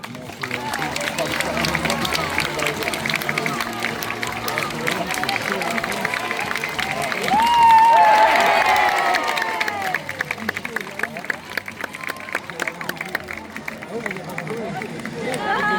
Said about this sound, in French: Je pense même qu'on peut de nouveau l'applaudir très fort.